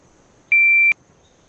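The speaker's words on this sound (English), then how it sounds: "We'll go ahead and press the timer button and see what that looks like" A shot timer in the VR shooting game ACE VR gives a single steady electronic start beep, sharp and loud, lasting under half a second before cutting off into quiet.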